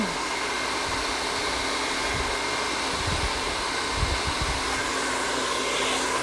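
A hair dryer blows steadily up close while curly hair is being dried, a constant loud whooshing roar with small low thumps as it moves through the hair.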